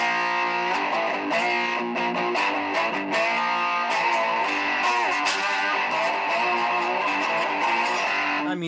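An electric guitar with a Wickedbucker pickup in the bridge position, wired straight to the jack, plays through a distorted amp: loud, dense, sustained chords and riffs with sharp picked attacks, and no voices.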